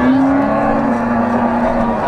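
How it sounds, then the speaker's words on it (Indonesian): A female Pegon cow, a half Brahman, half Javanese cross, moos in a long, steady, low call at a cattle market in Ponorogo, East Java, close and loud over background market bustle. "Sapi-sapi betina."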